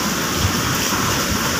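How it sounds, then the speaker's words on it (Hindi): Steady rain falls heavily and continuously, a dense broadband hiss with a soft low rumble underneath and no voices. "शुक्र है कि अब बारिश हो रही है।"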